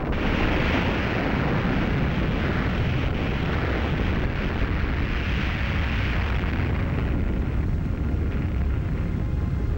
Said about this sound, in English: Operation Crossroads, conducted at Bikini Atoll, detonated 2 bombs